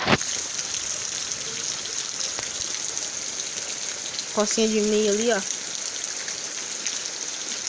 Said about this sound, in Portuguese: Chovendo aí, ó.